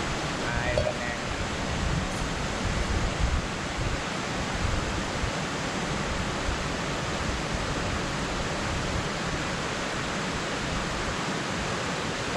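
A waterfall beside a river roars in a constant, dense rush of white-noise-like water that stays steady for the whole stretch, with faint voices now and then.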